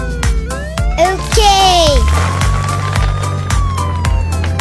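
A cartoon police car siren wails in a children's video, with rising and falling tones sweeping over bouncy music and a few cheerful voice snippets, loud and near for a few seconds.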